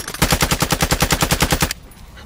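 Rapid automatic gunfire in Call of Duty Warzone 2.0, a loud, evenly spaced burst of about fifteen shots lasting under two seconds, then cutting off to a quiet tail.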